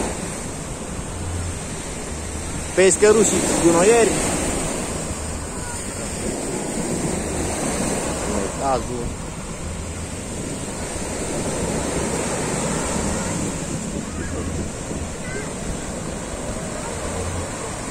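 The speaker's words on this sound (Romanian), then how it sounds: "Cu valurile clipocind în ultimele raze de soare." Sea waves wash steadily onto the beach at Eforie Nord at sunset, a continuous rushing surf mixed with wind noise on the microphone, while someone speaks briefly near the start.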